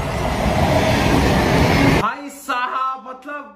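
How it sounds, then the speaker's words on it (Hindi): A train running on railway tracks, heard as a loud, dense rumble for about two seconds that then cuts off abruptly, followed by a short stretch of voices talking. "एक के स्पीड में ट्रेन चल रहा है या ट्रेन चल ही नहीं रहा है भाई?"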